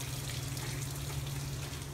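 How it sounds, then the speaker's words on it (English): Water flows and gushes steadily toward the pickup of a Mercury 20 hp outboard motor, a continuous close rushing with a low steady hum beneath. "I've got water flowing to the pickup area"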